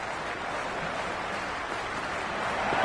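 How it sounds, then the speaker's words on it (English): A stadium crowd in a sports video game makes a steady, dense wash of roaring noise, loud and unbroken, building slightly toward the end. "already the crowd making a hell of a racket"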